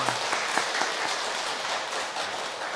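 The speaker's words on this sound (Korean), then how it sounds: "우리 박수 한번 하겠습니다." Church congregation applauding the choir during a Sunday worship service, a steady dense wash of clapping from many hands throughout, fairly loud and continuous with no voices over it.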